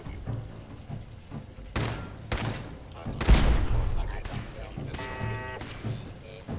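Several sharp gunshots in Fallout 4 ring out in quick succession, loud and close with ringing tails, followed by softer in-game clatter; a person speaks over parts of it.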